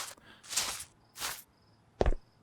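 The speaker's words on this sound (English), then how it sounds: "I don't really like the footsteps" Footsteps on crunchy concrete in a video game: three or four close, crisp steps spaced unevenly, the last one heavier and sharper, with near silence between them.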